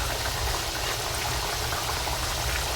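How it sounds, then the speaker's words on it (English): Already shallow-fried sausages sizzle in a pan of hot oil for loaded fries, a dense, even crackle and hiss up close with no pauses and no voices. "I can now then add in my already shallow fried sausages"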